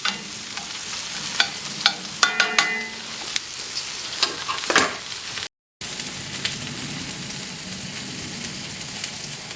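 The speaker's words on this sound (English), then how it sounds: "Be careful for the onions, don't let them burn." Onions for a smash burger sizzle loudly on a hot surface while a spatula scrapes and stirs them, with sharp clattering strokes early on, then a steady frying hiss after a brief gap.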